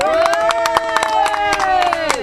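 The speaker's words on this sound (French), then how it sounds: "On a la chance d'avoir avec nous Annie Goldstein, qu'on applaudit très fort" Studio audience claps for an arriving guest in a brisk, loud run of sharp hand claps, with a sustained tone and some voices underneath.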